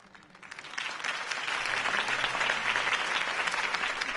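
Crowd applause in a video game that builds quickly from a few claps into steady, sustained clapping, fairly loud and close.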